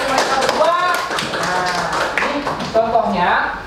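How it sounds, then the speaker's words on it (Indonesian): Students in a classroom clap together in a lively round of applause, the brisk, uneven hand claps mixed with excited young voices calling out over them. "Kita boleh berikan tepuk tangan yang meriah untuk mereka berdua."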